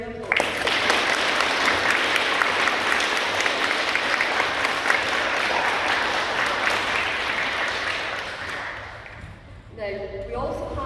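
A hall audience applauds three primary school pupils at a school assembly, a dense, loud, sustained round of clapping that fades toward the end as a voice begins speaking.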